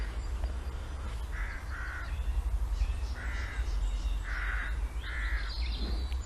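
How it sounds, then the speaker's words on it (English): A crow caws several times in short separate calls, clear and moderately near, over a low outdoor rumble. "Crow."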